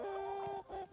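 A chicken clucks close by in a sustained, tonal call while the flock eats chicken fat, ending with a second shorter cluck.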